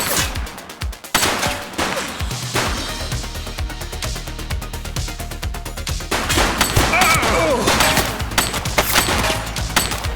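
Gunfire from a suspect in the police simulator game The Precinct: loud, rapid automatic bursts and repeated shots, near and dense, continuing almost without pause over a low engine-like rumble.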